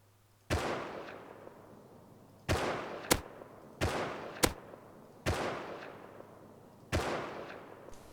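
Rifle gunfire in the survival video game Rust fires six sharp, separate shots at irregular intervals. Each crack trails off in a long, echoing decay that suggests long-range fire.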